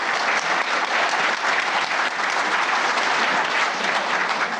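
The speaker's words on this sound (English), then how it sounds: "Well-deserved round of applause there." A conference audience at a keynote session breaks into steady, dense applause, full and unbroken from start to finish with no talking over it.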